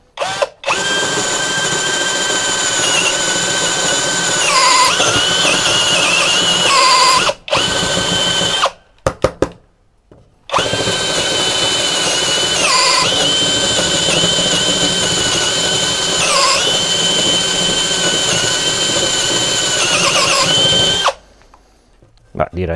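A Mensela ED-LX2 brushless impact drill driver runs in loud, close whirring bursts, its pitch shifting as it loads and the chuck slips, with a few short pauses between runs.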